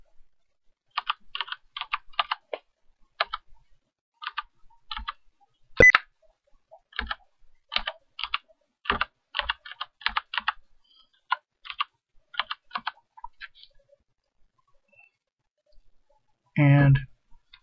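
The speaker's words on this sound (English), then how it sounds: "and start typing." Keys clatter on a Corsair Vengeance K95 computer keyboard in bursts of quick, close typing with short pauses, then one louder thump near the end.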